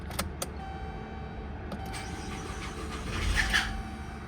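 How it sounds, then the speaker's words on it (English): A 2011 GMC Acadia's 3.6L engine cranks over with a starter whir rising near the end, preceded by a couple of sharp clicks, close and moderately loud. "So let's go ahead and try to turn this over."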